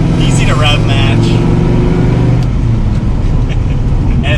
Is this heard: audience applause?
no